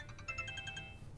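A phone ringtone plays a quick run of repeated electronic beeps, about eight pulses in a steady rhythm, moderately quiet over a low background hum in a domestic scene.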